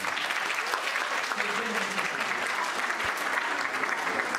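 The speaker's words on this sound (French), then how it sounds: "vous pouvez vous applaudir très fort" Loud, sustained applause from a large audience of children and families at an orchestral concert, dense steady clapping filling the whole stretch without a break.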